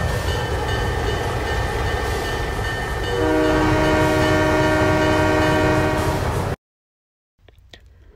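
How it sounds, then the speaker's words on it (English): A steam train in the video game Trainz Driver 2 rumbles in loudly with a sustained horn-like tone over steady mechanical noise, then cuts off abruptly to near silence. "At last, the train came."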